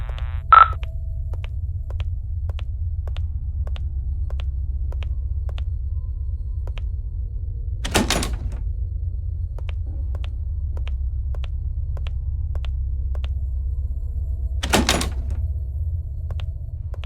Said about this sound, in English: Dang, the door's locked.